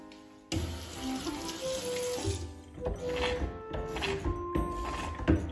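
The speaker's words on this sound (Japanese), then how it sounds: "まず手を濡らして石鹸をつけます。" Water runs from a tap as hands are wetted and soaped during kindergarten handwashing, a continuous close splashing stream with small thunks and shifts in flow, no voices heard.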